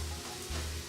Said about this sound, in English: now I'm going to add in the tofu